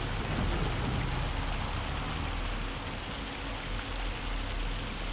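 Hail pounds steadily down during a July storm over a meadow, a dense, constant pattering roar with no let-up.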